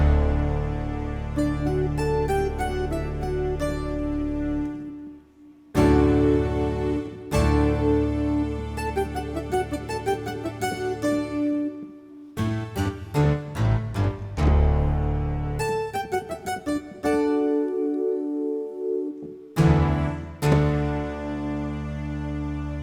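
A Korg M3 synthesizer combi with piano, guitars, strings and a touch of brass, playing in phrases with brief pauses and sharp stabs between.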